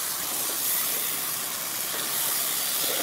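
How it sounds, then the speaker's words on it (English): Fruit halves sauté in a hot pan with a sugar blend, giving off a steady, broad sizzling hiss that holds constant and close throughout, with no voices. "We're going to let them saute for a couple minutes just to get them a little bit soft."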